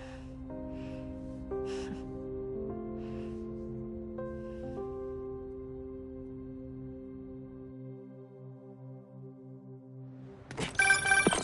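A phone rings with a sequence of sustained, stepped electronic tones that hold and shift for several seconds, then a brief noisy clatter at the end.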